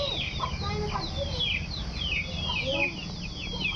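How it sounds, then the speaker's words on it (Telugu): Several chickens from a backyard flock of about fifteen cluck and chirp steadily over a low background rumble, with voices talking faintly underneath. "సో మొత్తం 15 కోళ్ళు అయినాయి అనమాట మళ్ళీ మనకు"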